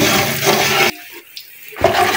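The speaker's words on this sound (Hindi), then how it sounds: "इसमें तकरीबन हाफ कप के करीब पानी शामिल करने लगे हैं।" About half a cup of water is poured into a pot of barley porridge, making a loud, close rushing splash that stops briefly, then resumes.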